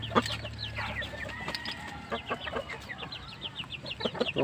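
Large Asil and Siamese cross-breed chickens cluck repeatedly at close range, with short, irregular calls overlapping and a steady low hum beneath them.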